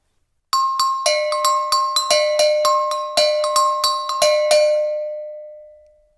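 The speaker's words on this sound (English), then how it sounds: "and a set of go-go bells." Go-go bells from a world percussion class pack, struck in a lively repeating pattern of bright, clanging metallic hits on two pitches, close and loud, ringing on briefly after the final strike.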